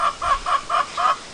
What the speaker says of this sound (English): Here's some of the other chickens.